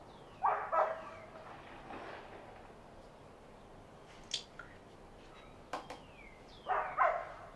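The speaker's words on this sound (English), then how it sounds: "Oh, I love it when they let their dog out," A neighbour's dog barks excitedly from a distance outdoors, a few sharp barks early, then scattered yips, and two more barks near the end over a quiet hiss.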